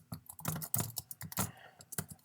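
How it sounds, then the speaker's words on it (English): Typing on a computer keyboard: a quick, irregular run of close, crisp key clicks and taps, some heavier strokes among lighter ones, with no voice. "I'm going to try typing on this video"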